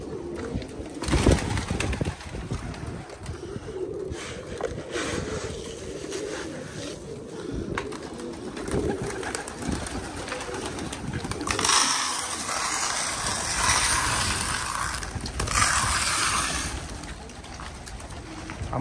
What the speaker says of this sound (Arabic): حمام ياكل من جوا انتاج،